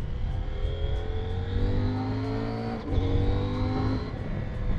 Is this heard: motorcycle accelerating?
yes